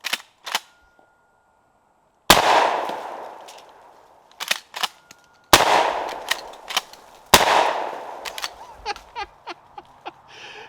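A 12 gauge shotgun fired at beer cans outdoors, three loud booming shots spaced several seconds apart, each followed by a lingering echo and scattered clatter, with a few lighter clicks and knocks between.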